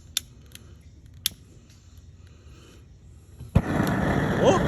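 A jambalaya cooker burner catches with a sudden loud poof partway through, then settles into a steady broadband rushing hiss of gas flame, preceded by a few faint clicks in quiet.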